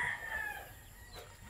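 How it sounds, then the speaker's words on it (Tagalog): Chickens and chicks wander a farm range, giving faint, brief clucks and calls over steady outdoor background noise, with no talking. "So ayan, nakagala na dyan yung ating mga sisiw."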